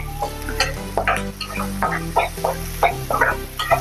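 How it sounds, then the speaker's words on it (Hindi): Close, crackling sizzle of ginger garlic paste frying in a hot pan, with soft stirring scrapes over a low steady hum. "इसको भी थोड़ा देर भुनेंगे, अदरक लहसुन को भी"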